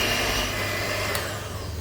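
An electric mixer churns almond flour petit four dough as flour goes in bit by bit, giving a steady close motor whine with a high buzz, loud and constant throughout.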